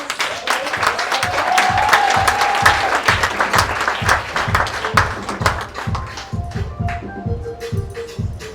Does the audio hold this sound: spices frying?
no